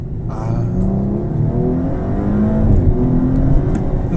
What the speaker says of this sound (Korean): 엑셀러레이터 페달을 뗐을 때 이렇게 RPM 쭉 가라앉으면서 이런 기계적인 것들이 후루룩 풀려나가는 그런 사운드가 있거든요